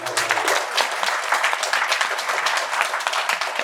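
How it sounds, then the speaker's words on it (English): Audience applause at a jazz festival closing ceremony for student award winners, continuous dense clapping from a large crowd, full and close. "Let's give them a round of applause."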